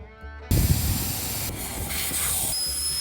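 Compressed air hisses loudly and steadily into off-road tires being aired up on a Lexus GX470 at a trailhead, starting abruptly after a brief low rumble and continuing without a break.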